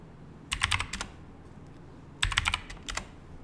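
Keys typed on a computer keyboard while setting up Windows 11, two short bursts of rapid clicking keystrokes separated by a pause, close and clear with no talking.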